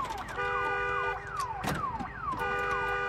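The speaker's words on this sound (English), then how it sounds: "We need to get that car alarm off." Car alarm blaring in the zombie video game Days Gone, repeating falling electronic wail tones in a steady cycle, loud and close, with no talking.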